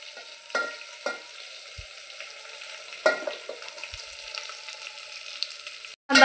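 Chopped onions fry in a pan for masala rice, giving a soft, continuous sizzle with a few light stirring knocks, close but fairly quiet, no talking.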